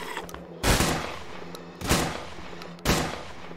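Three loud, booming gunshots in the video game Survive the Nights, spaced about a second apart over a constant low background hum.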